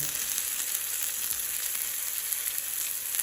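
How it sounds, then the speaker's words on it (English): A steady, close hiss of food frying in oil after being flipped onto its freshly oiled side, an even bright sizzle that holds without a break and no voices over it. "Roll it over, and because we oiled that side, we'll start to fry again."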